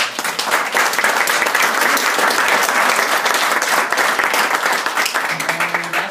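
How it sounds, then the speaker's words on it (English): Sustained, dense applause from a crowd at a rehabilitation center ribbon-cutting grand opening, steady and loud throughout with no pauses. "give her a big round of applause"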